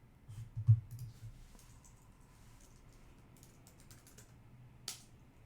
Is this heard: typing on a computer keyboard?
yes